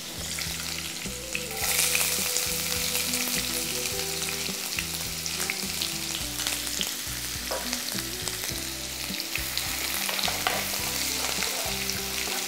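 Chopped onions and green chillies fry in a pan, a steady close sizzle with occasional stirring scrapes running throughout, no voices.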